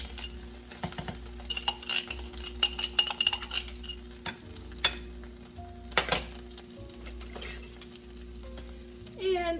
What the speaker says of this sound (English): Okay, so now I'm gonna take and add some butter.